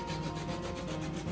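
Small handsaw cutting the extra ends off thin wooden kumiko strips: a quick, close, rasping back-and-forth scrape repeating in an even rhythm, with no talking.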